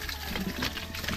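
Water gushes steadily and strongly from a hand-built water pump outdoors, a close, continuous splashing flow with no break.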